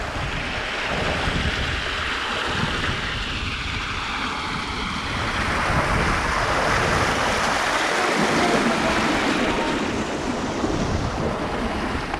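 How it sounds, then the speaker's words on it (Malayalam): Water released from a sluice rushing through a channel on Nedungad island in Vypin, a loud, continuous roaring gush heard close, with wind buffeting the microphone. "ഇത് വെള്ളം ഇപ്പോൾ തുറന്ന് വിട്ടാനാ കേട്ടോ."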